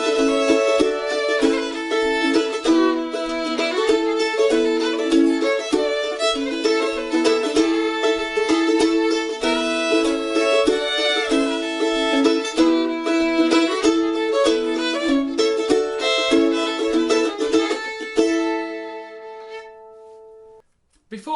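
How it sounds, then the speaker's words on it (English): Mandolin strumming open chords to the fiddle tune Goodbye Liza Jane, a bright, steady rhythmic pattern played alone and close, ringing out and fading to silence at the end. "this is a lesson aimed for intermediate mandolin players on the chords to Goodbye Liza Jane"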